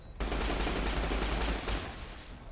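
Rapid automatic gunfire in the video game Fallout: New Vegas rattles on continuously and loudly for about two seconds after a brief silent start, then fades into a lingering echo.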